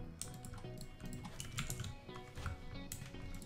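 Rapid, uneven clatter of keys on a computer keyboard, steady and close, with a low background hum and no one speaking.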